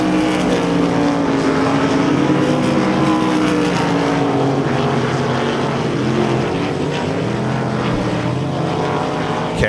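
IMCA Race Saver sprint cars roar around the Devils Bowl Speedway dirt track in a heat race, a dense, loud, continuous howl of several engines rising and falling as the pack passes.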